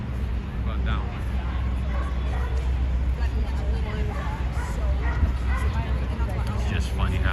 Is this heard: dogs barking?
yes